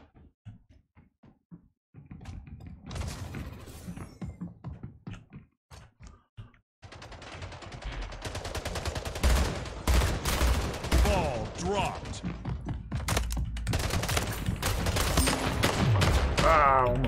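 Battle rifle fire in Splitgate, during an Oddball match: loud, close bursts of rapid shots, sparse and clipped at first, then dense continuous volleys with clatter and impacts, under occasional voice.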